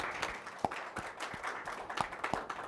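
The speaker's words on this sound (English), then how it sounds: "You deserve that applause." Brief, moderate applause from a live audience at a Global Ethics Day event, with scattered individual claps standing out from the steady patter.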